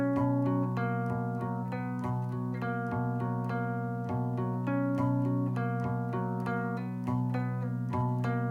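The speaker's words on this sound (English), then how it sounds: "grab my electric guitar and just strum some notes in a really simple chord" An electric guitar strums a simple chord in a steady, repeating pattern, with sustained tones and regular strokes at a moderate, even level.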